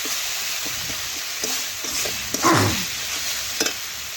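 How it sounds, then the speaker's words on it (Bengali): Spice paste with a little water fries in a pan for a chicken curry, a steady sizzle with the clatter and scrape of stirring every so often and one louder clunk near the middle. "জল দিয়ে আমাকে মশলাটা ভালো করে ভেজে নিতে হবে"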